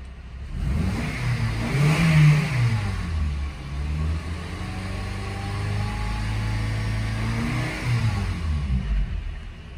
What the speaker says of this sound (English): Revs up nice, no check engine light on.